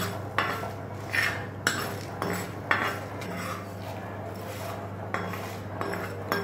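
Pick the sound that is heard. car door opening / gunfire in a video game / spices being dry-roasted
spices being dry-roasted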